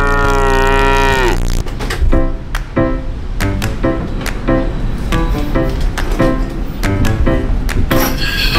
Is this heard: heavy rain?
no